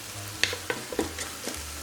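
Meat browning in a Cosori multi-cooker on the brown function gives a soft sizzle under a few distinct scraping and stirring taps of a utensil, close and fairly quiet.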